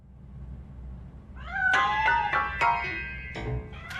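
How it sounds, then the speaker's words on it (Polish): A cat hidden inside a piano in the RoboCop: Rogue City video game meows several times in quick succession, clear rising-and-falling mews over a low background hum. "That cat must be hiding inside."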